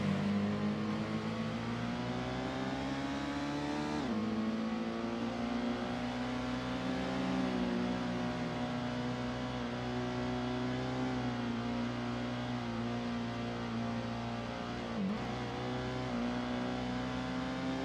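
A Toyota Supra race car engine in the Gran Turismo video game, a steady droning hum held at high revs, with a few brief dips at gear shifts. It runs continuously and loud throughout.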